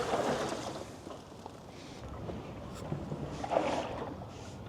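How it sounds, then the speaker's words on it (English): Water sloshing around inside the multi-layered hard lid of a Roofnest Condor Overland rooftop tent, a soft, continuous swishing wash rising and falling in waves, with no talking. "You can hear water sloshing around in this hard lid."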